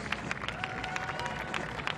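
At an Ultimate Frisbee World Games match between Colombia and France, a player and crowd applaud with scattered, rhythmic claps over a low murmur of the venue.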